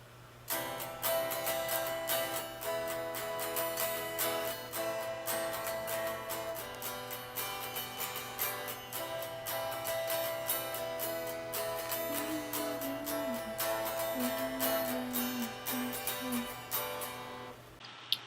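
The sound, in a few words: acoustic guitar playing the song's bridge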